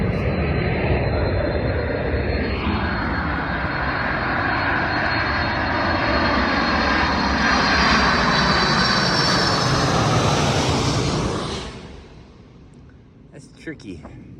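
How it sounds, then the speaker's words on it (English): A big airplane roars overhead, a loud, broad engine rumble that swells, holds for about eleven seconds and then fades quickly, leaving quiet with faint clicks at the end. "the airplane was coming. It's a big airplane."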